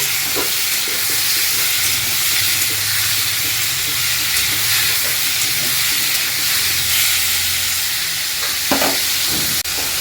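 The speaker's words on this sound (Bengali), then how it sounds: "দিয়ে দেবো কেটে রাখা টমেটোগুলো। খুব ভালোভাবে নাড়াচাড়া করে নেব।" Chopped tomatoes fry in hot oil over tempered spices for a chutney, giving a steady, close, loud sizzle and hiss with the scrape and clatter of continuous stirring in the pan.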